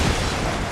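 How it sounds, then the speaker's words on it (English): A short, loud explosion in XCOM 2: War of the Chosen video game, a broad dense blast that holds steady for under a second, close and alone. "Explosions."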